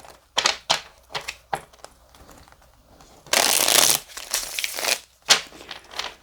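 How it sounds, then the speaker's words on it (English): Tarot cards being shuffled in a series of quick papery riffles and bursts, with a longer dense rustling stretch in the middle, close and fairly loud, no talking. "I'm going to do a shuffle."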